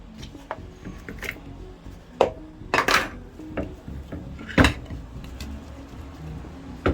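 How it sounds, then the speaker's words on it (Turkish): Meat set into the bottom of a güveç stew pot in a home kitchen, with a few sharp clinks and knocks of cookware and soft handling sounds, close and moderately loud, no talking. "En dibine ortalama 500 gram etimizi koyuyorum."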